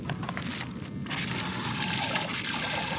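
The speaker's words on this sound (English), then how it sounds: "water spray." A small water pump sprays water in a continuous close, splashy trickle and rush, fairly loud and even throughout, with a brief lull near the start.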